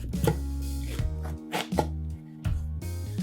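A sharp knife cuts through a butternut squash on a board, giving several firm, close chopping knocks spaced irregularly, with no voices.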